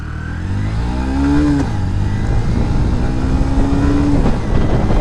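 A 125cc city and family motorcycle accelerates hard from a standstill toward 60, its close engine rising in pitch through the gears with a clear drop at each shift.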